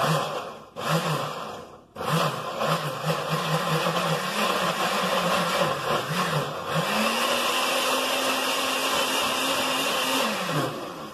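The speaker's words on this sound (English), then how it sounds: "Give it a blend, lid on, whole stir." A loud blender runs steadily blending green chilaquiles sauce, with a whirring motor drone, pitch shifting as it works, after a couple of brief starts and stops at the beginning.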